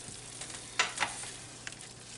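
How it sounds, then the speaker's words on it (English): Butter chicken with a cup of heavy whipping cream is stirred in a pan over lowered heat, giving a soft steady simmer with two brief scraping swishes of a spoon near the middle, alone and without talk. "We're going to give it a stir."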